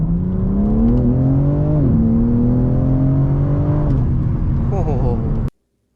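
A 2024 BMW M4 Competition xDrive accelerates hard, its engine note climbing loudly through two upshifts heard inside the cabin before the sound cuts off abruptly.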